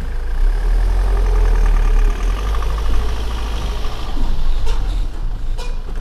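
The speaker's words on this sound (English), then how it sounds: "let's get the van out of the way" A van engine runs steadily while driving, a loud continuous low rumble with mid-range engine drone throughout, close inside the cab, with no talk over it.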